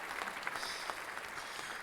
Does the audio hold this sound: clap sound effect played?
yes